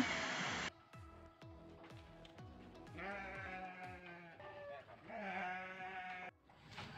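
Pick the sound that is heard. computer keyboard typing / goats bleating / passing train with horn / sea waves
goats bleating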